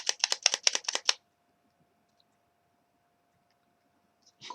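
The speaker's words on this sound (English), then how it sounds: "You can hear the clicking sound, look." Buttons on a Panasonic Q GameCube controller click in a quick burst of about eight crisp, close taps, followed by near silence and one faint click at the end.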